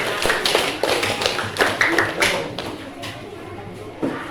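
A class claps for a student group in a classroom, a quick busy patter of many hands lasting a few seconds before thinning out, with a final stray clap near the end.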